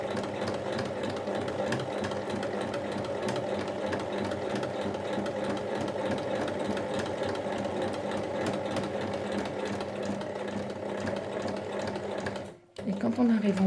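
A sewing machine runs steadily, stitching the sides of a lined fabric Christmas drawstring pouch with a pocket, a dense continuous mechanical whir lasting nearly the whole time before stopping abruptly near the end, with a voice talking faintly over it.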